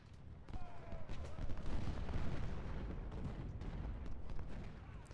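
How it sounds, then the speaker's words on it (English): Artillery and rifle fire from a skirmish in the Ultimate General: Civil War video game, a dense continuous rumble of distant cannon booms and scattered gunshots with a brief whistling tone early on. "Woods still taking some shots at Lee. Still a little skirmish going out here"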